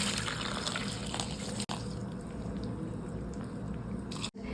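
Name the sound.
milk being poured into a container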